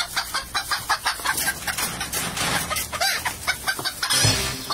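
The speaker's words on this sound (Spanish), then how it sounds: "Pelea de gallos." Roosters clucking and crowing at a cockfight, a dense run of repeated calls close by over a busy, noisy background with no talk.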